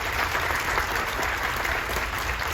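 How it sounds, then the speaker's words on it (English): Crowd aboard a cruise ship applauding the crew, a continuous, fairly distant patter of many hands clapping that stays steady for the whole short stretch, with no talking. "Let's hear it for the crew."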